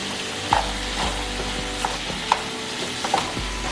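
Carrots, onions and beef are stirred in a frying pan, with a steady close sizzle and several sharp utensil scrapes and clinks against the pan at irregular intervals.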